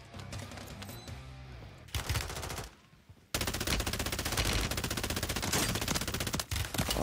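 Rapid automatic gunfire in Call of Duty Warzone on Rebirth Island, a long continuous burst of tightly spaced shots that starts abruptly after a short lull, loud and close.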